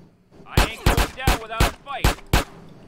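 Six sharp gunshots crack in GTA San Andreas at an uneven pace, each loud and close with a ringing tail.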